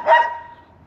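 A single dog bark rings out on a road near a housing project in St. Thomas, a short sharp burst that trails off quickly, heard alone with no talking.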